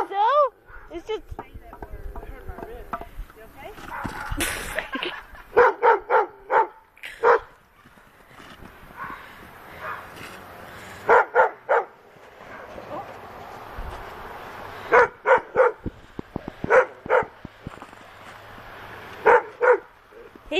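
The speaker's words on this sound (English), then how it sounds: "He's a pretty doggy." A dog barks in repeated short bursts, several quick barks at a time with gaps between them, close and loud, while people talk and shout nearby outdoors in snow.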